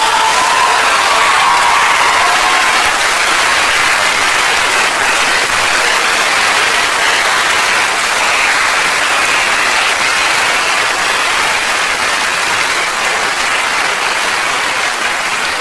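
A comedy show audience at Arnaud Tsamere's stand-up performance applauds loudly and continuously, a dense wash of clapping that holds steady from start to finish with no voice on top.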